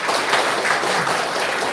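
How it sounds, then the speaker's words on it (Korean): A Korean church congregation at Sunday worship applauds a returning missionary, a dense, continuous clatter of many hands filling the room at moderate loudness, with no talking. "우리 귀한 말씀과 성경복으로 도전해 주신 우리 성교사님께 감사 박수 드리겠습니다."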